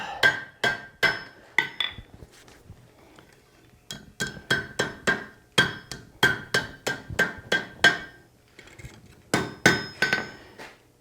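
Forged steel meat hook hammered on an anvil: sharp ringing metallic blows in quick bursts of several strikes, with brief pauses between groups, close and loud with no talking.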